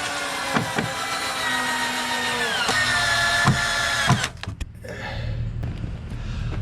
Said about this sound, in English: Just go ahead and drill these screws in here.